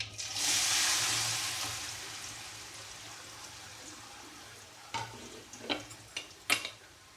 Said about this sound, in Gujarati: મિક્સ કરીને થોડી વાર ફ્રાય થવા દઈએ।